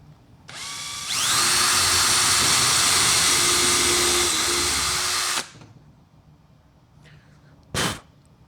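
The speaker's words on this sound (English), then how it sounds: "I'm going to go ahead and pre-drill the hole." A power drill whirs loudly for about five seconds, its pitch climbing as it bites into a board while pre-drilling a hole, then stops; a brief second burst follows.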